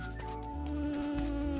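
A fly in the video game Dinkum gives off a steady, loud droning buzz like a bee, holding a constant pitch throughout over a dense background.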